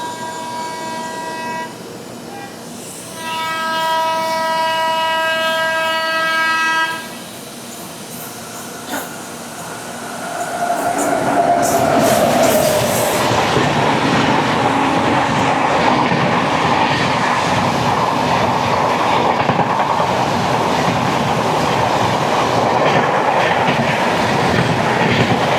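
The Jan Shatabdi Express passes on an Indian railway line, heard from aboard another train: a sustained horn blast with clear harmonic tones comes first, then a loud rushing roar with rhythmic clatter of wheels on rail joints.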